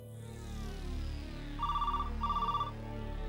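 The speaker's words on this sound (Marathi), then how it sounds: "साक्षी, फोन घेऊन जा." A telephone rings in two short trilling bursts over a low background hum, fairly clear and close.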